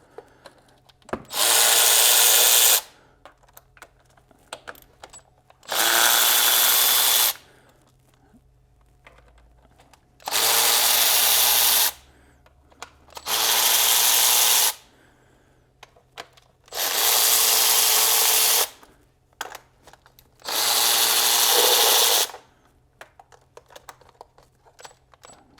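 A Milwaukee cordless automotive power tool undoes nuts in six separate bursts of loud whirring, each lasting a second or two, with near-silent gaps and small clicks between them.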